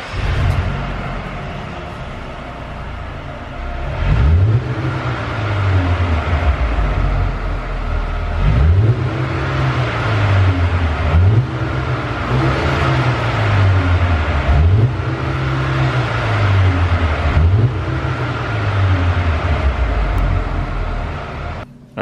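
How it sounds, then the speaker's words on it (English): A Mercedes-AMG GLB 35 SUV engine revs repeatedly, about five rising throttle blips in a steady rhythm over a continuous idle rumble, loud and close. "Let's get a little rev on."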